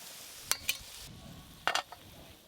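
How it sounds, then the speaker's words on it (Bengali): Soft, steady sizzling of fritters frying in hot oil until crisp, with a few sharp pops and crackles bursting out in two small clusters. "খুব ভালো করে একদম মচমচে করে বড়াগুলো ভাজা হয়ে গেল।"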